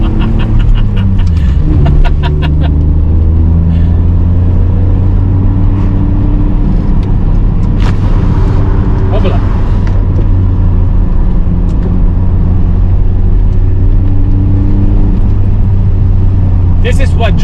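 A BMW 525i E34 drives along with a steady, loud engine drone that rises and falls through gear changes, someone talking over it inside the car at times.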